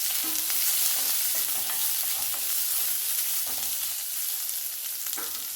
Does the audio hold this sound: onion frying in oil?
yes